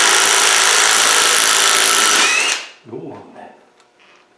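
A DeWalt power gun loosening engine bolts buzzes loudly and continuously for a couple of seconds, then cuts off abruptly, followed by a brief spoken remark.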